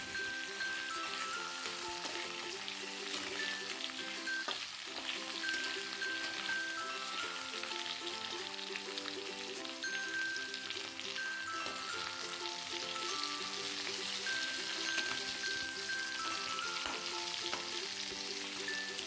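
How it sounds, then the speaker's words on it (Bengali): Spiny gourd pieces fry in mustard oil with nigella seeds, giving a steady, fairly quiet crackling sizzle with occasional stirring, heard throughout under soft background music. "কালো জিরে ফোড়ন হিসেবে ইউজ করছি পাকরোলগুলোকে একটু ভেজে নিচ্ছি"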